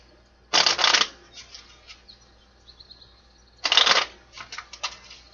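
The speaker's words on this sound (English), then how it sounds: "I'm going to shuffle these." Tarot cards being shuffled in two loud, close bursts of riffling, each trailing off into softer scattered card taps, with no talk over them.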